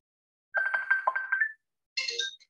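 A mobile phone ringtone plays a bright electronic melody for about a second, pauses, then a second higher chiming phrase sounds, clear and close in a quiet room.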